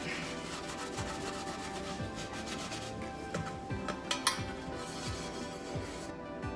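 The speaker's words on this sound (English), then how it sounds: "now that I have this part kind of scuffed up with this red, maroon Scotch-Brite pad" Red maroon Scotch-Brite pad scuffing a metal part from a 1978 Ford F-350 being prepped for POR15 paint, a steady close rasping rub that runs continuously with a few sharper scrapes.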